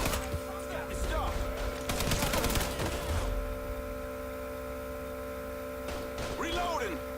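Bursts of heavy gunfire crackle in Mafia 3, a dense volley early on and another near the end, over a steady electrical hum with someone talking between shots.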